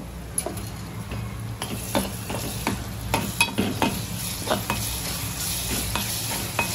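Chicken keema with ginger-garlic paste stirred in a hot pan, a steady sizzle broken by repeated scraping and clinking strokes of a spoon against the metal, close and fairly loud, with no talking.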